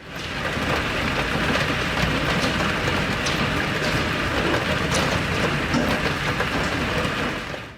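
Hail pelts down in a dense, steady roar of pounding ice and heavy rain, loud and continuous throughout with scattered sharper impacts and no voices.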